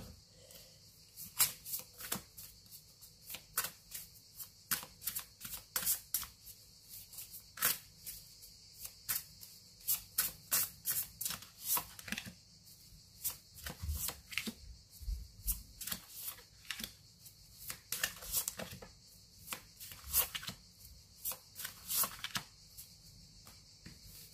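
Tarot cards being shuffled for a reading, quiet and close, with repeated crisp riffling and flicking bursts in an uneven rhythm, separated by short pauses.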